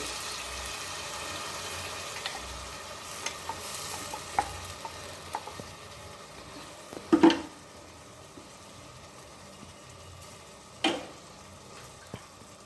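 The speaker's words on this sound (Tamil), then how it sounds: "வதங்குற வரைக்கும் நல்லா கிண்டி விடணும்" Tomato, ginger and onion fry in a pan while being stirred, with a low continuous sizzle, scattered scraping taps and a couple of louder knocks of the spoon against the pan, no voices.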